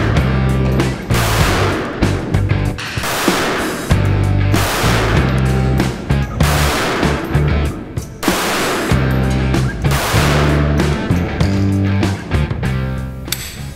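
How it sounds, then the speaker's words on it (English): A Kahr CT 380 pistol fires repeatedly in a loud, sharp sequence, each shot a broadband crack with ringing decay, arriving in clusters across the stretch with brief gaps between strings of shots. "Let's go shooting, Kylie."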